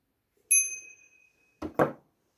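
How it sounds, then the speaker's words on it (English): A small brass sanctuary bell with its original clapper gives one bright, clear ding that rings out and decays, followed by a couple of quick soft knocks as it is handled. "Nice little brass sanctuary bell."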